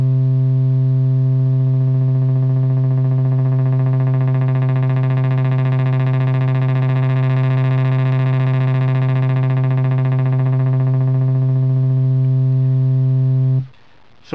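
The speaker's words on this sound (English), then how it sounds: "what you're hearing there is the signal coming out the LFO being added to" A LushOne synthesizer holds one sustained buzzy note for about thirteen seconds while an LFO modulates the filter cutoff, giving a slow swelling brightness in the upper tones. The note then cuts off abruptly.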